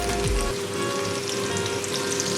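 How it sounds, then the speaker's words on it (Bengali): Pumpkin pieces frying with a little salt in a pan give a steady, close sizzle and crackle that runs unbroken from start to end, with no talking. "কুমড়োতে সামান্য লবণ দিয়ে ভালো করে আমি ভেজে নেব"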